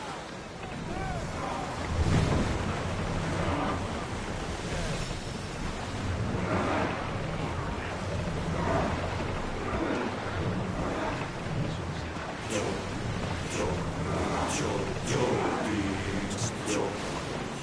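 A ship sails over ocean waves in a PS4 video game, with steady rushing water and wind noise that holds throughout while a voice talks over it.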